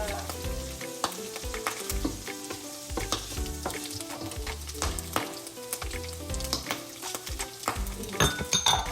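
Garlic, onion, tomato and fish bagoong sauté in a pan, a steady close sizzle with frequent scraping and clinking of a utensil stirring against the metal.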